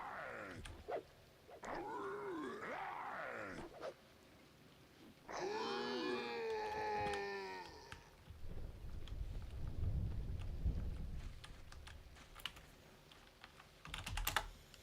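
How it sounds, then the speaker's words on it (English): Thunder and rain in the video game EverQuest: a low rolling rumble of thunder over a steady rain hiss, mixed with computer keyboard typing and some game sound effects, fairly faint overall. "Even the lightning where it's raining here is super cool in EverQuest."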